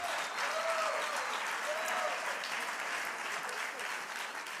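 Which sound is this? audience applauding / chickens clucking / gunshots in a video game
audience applauding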